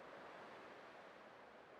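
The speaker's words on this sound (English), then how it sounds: "I can still clearly hear the sound of the waves." Ocean waves wash steadily in a video game scene from Honkai Star Rail, a constant broadband surf wash with no breaks and no voices, quite faint overall.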